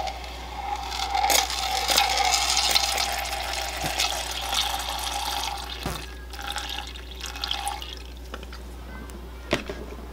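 Distilled water being poured into a container while mixing homemade hand sanitizer, an uneven trickle and splash with small knocks and clicks, swelling early and then thinning out toward the end.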